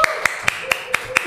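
A few hands clapping in a steady, evenly spaced rhythm, six sharp claps over about a second, close and fairly light, with no crowd applause around them.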